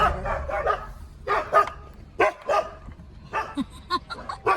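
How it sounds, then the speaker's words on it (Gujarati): Dogs bark in a series of close, loud bow-wows and yips, in uneven bursts with brief whimpers between them, at an outdoor spot during a garba program trip in Dwarka. "નયન, તમારું નામ લીધું તો કૂતરાએ બસવા માંડ્યા."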